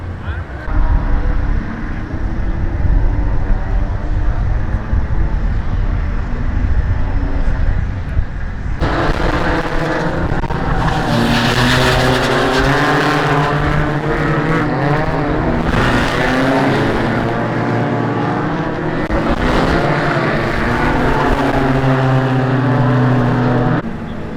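An old Toyota Supra drift car at Hotpit AutoFest, its engine roaring loudly and continuously with surging revs and tire noise, while people talk over it.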